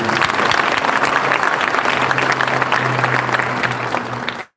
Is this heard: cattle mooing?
no